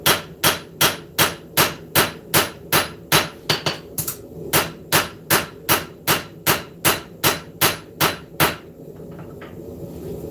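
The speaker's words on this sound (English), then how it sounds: "I'm going to be forging this down to about an 1/8 of an inch thick spine." Steady, evenly paced hammer blows ring out on a steel knife blade being forged, about twenty sharp metallic strikes close by with a brief pause midway, then silence after the last blow.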